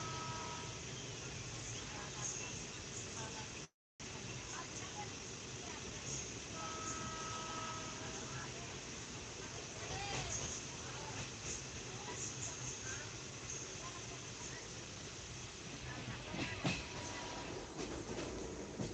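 A train rumbles past steadily with a continuous rolling roar and faint rhythmic clatter of wheels, fairly distant and sustained throughout.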